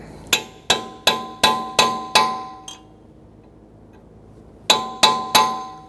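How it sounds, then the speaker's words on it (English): Sharp metallic strikes from a sledgehammer driving a cold chisel to peen a CV axle nut on a 2013-2022 Buick Encore: six evenly spaced ringing blows, a pause, then three more, loud and close with no talk. "Just using a cold chisel and a sledgehammer."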